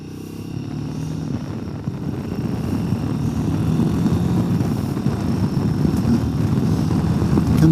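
A Royal Enfield Himalayan 450 single-cylinder motorcycle is ridden, its engine a low, steady thrum mixed with heavy wind rush that builds gradually as speed rises, with no talking.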